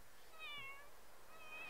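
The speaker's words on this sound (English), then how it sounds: "I want this cat. Oh, look at the kittens." Several cats and kittens meowing in The Sims 3, a run of thin high mews at moderate level over a soft game ambience, with no talk.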